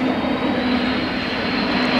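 A Doomsday Plane, the windowless military aircraft that circles over Fort Smith in West Arkansas, drones overhead as a steady, loud broadband engine roar with a constant tone and no voices.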